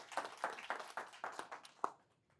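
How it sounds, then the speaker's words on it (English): Audience clapping in a room at a real estate talk, a scattered handful of claps in uneven rhythm that thins out and stops after about two seconds. "This is where you clap."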